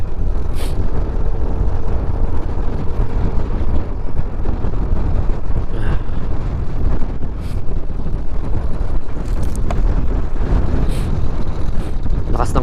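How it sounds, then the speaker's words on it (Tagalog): Strong wind buffets the microphone in loud, continuous gusts, with a few brief bursts of distant sound breaking through. "The wind is so strong."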